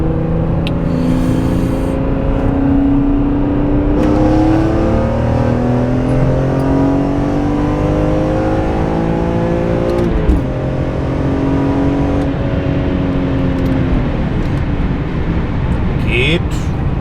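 A BMW E46 M3 fitted with a CSL carbon airbox revs repeatedly, its loud engine note sweeping up and falling back in rising pulls, close and continuous with a brief pause midway.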